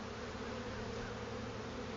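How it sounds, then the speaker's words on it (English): Dense, steady drone of many honeybees inside an opened hive, a continuous close buzzing hum with no pauses or voices. "We have some bees over here that they are communicating"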